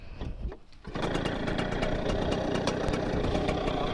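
A motorcycle being started by a first-time rider: a brief rough turnover, then the engine catches and settles into a steady, loud idle close by.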